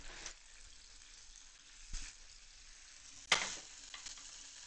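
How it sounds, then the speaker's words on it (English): Grilled chicken sizzles steadily in a pan, a soft continuous crackle with a few louder clatters of stirring or utensils, no voices. "It's sizzling."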